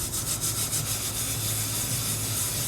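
Flax seeds roasting in a pan are shaken and stirred, giving a continuous dry, gritty rustling hiss that stays close and even throughout.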